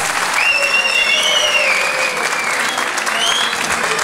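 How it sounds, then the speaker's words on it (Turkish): Sustained applause from the audience at a Turkish classical music choir concert, with several shrill whistles rising and gliding over the clapping near the start and again later. "Alkışlarınız."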